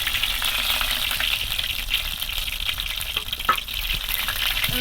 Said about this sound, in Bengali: এই অপর পিঠটা আর একটু ভাজতে হবে